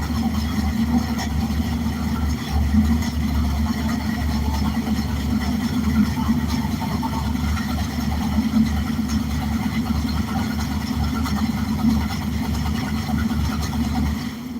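A race car engine with a MegaSquirt engine management system idles in neutral, a steady low rumble holding at an even level throughout, close and continuous with no voices over it.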